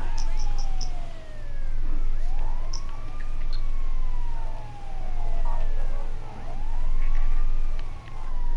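A video game ambulance siren in GTA wails, sweeping up and down repeatedly over a low engine rumble, loud and close.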